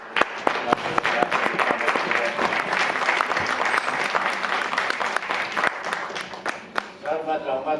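Audience applause after a theatre performance of the Hindi play Ek Tha Gadha, sustained clapping from a crowd with sharp individual claps standing out, while a voice speaks over it toward the end.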